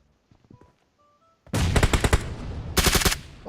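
Automatic gunfire in the mobile shooter PUBG Mobile, a few faint tones first, then sudden loud bursts of rapid rifle shots in two clusters, close and sharp, alone without talk.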